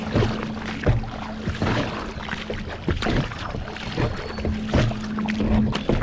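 A small plastic mini kayak bobbing on sea waves, with rushing water, sloshing and hull knocks mixed with gusting wind buffeting the microphone, fairly loud and close throughout.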